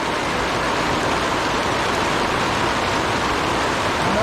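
Heavy pouring rain outdoors at the Marion Bigfoot Festival, a loud, unbroken wash of hiss that stays constant throughout with no voices over it.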